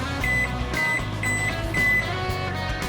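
Four short electronic beeps from an oven timer being set, at a steady pace, close by, over a low hum.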